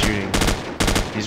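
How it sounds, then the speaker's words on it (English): Two short bursts of rapid automatic gunfire in a combat video game, loud and close, split by a brief gap. "He's shooting."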